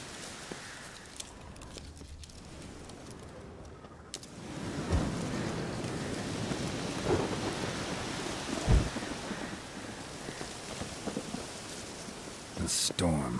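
Thunderstorm with heavy rain in The Witcher 3: Wild Hunt, a steady wash of downpour that swells after a quieter start, broken by a few sharp thunder cracks.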